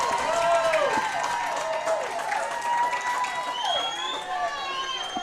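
Fans at a boys varsity lacrosse game roar and cheer loudly after a goal, with shouting voices and applause filling the stands in a sustained, close burst.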